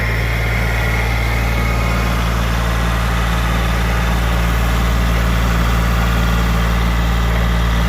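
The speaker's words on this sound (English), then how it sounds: "he cuts out the utilities really nicely with the tractor like that" A steady, droning tractor engine idles nearby, a continuous low rumble that holds level throughout with no voices.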